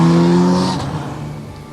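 A 1989 Peugeot 605 prototype makes mechanical noise at low speed around town: a loud, close engine drone with strong tonal whine that fades into a quieter rumble of passing traffic.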